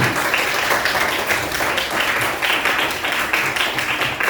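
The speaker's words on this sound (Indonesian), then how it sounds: "Tepuk tangan dulu untuk kita" Applause from a classroom of students, a loud, continuous patter of many hands clapping together at close range, sustained evenly for over four seconds with no voices on top.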